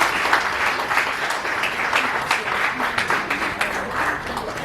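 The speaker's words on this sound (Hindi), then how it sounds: "थोड़ा सा तालियां तो बनती है।" Applause at an Inner Wheel club award ceremony during a prize announcement: steady, moderately loud clapping from an indoor crowd, sustained for about five seconds with no speech over it.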